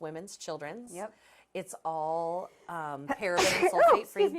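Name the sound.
sneeze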